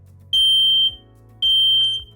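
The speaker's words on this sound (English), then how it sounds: "press and hold the button on the smoke alarm and wait for it to activate." Two loud, piercing smoke alarm beeps from pressing the test button, each lasting about half a second, separated by a short gap, close and shrill.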